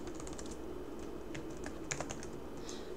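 Keys clatter in a steady, moderately close run of computer-keyboard typing, the clicks irregular and light with a few sharper strokes near the end, with no voices.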